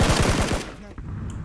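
Rapid automatic gunfire in the video game PUBG, a loud burst of evenly spaced shots that stops abruptly, followed by quieter game ambience.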